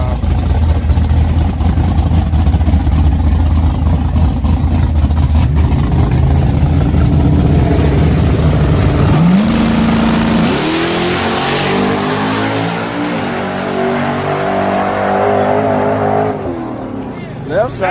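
A Ford Mustang engine idles and then revs hard, its pitch climbing in several sweeps and settling into a steady, loud rumble with voices talking over it.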